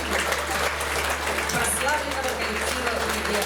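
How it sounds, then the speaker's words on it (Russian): Audience applause fills a concert hall at a Khakass philharmonic ethnic music event, a dense, steady wash of clapping from a large crowd lasting the whole stretch, with a faint voice underneath. "Эти аплодисменты вам, дорогие наши участники"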